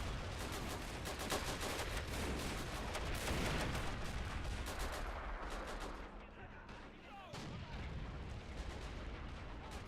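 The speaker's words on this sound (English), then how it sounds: "they are still shooting their artillery short" Dense, continuous WW1 battle din from a video game on the Western Front: artillery fire and gunfire booming and crackling loudly throughout, easing briefly before swelling again.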